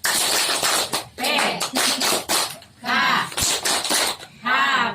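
A group claps out the PKH clap routine in rhythmic bursts of sharp hand claps during a P2K2 session, with voices chanting and talking between the claps.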